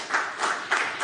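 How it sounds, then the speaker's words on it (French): Brief burst of audience applause, a dense wash of hand claps pulsing in a few swells over about a second, with no talking. "Je crois qu'on peut les applaudir"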